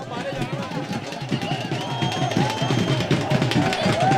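A large, noisy crowd mills around at a final match while police struggle to keep order, a dense continuous hubbub of many overlapping voices with shouts rising over it, steady and close throughout.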